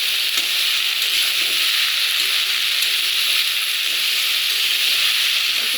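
Okra (bhindi) fries in a pan with a loud, steady, close sizzle and hiss that holds unbroken throughout, with no voices.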